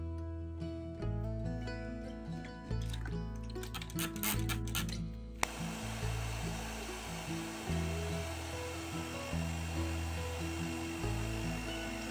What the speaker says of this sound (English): dry it with a hairdryer in kind of that direction